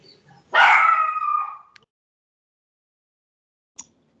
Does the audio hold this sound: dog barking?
yes